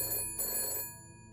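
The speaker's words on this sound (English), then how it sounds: "The phone is ringing." A telephone rings in the detective video game Shadows of Doubt, a single electronic bell trill, brief and moderately loud, with no voice over it.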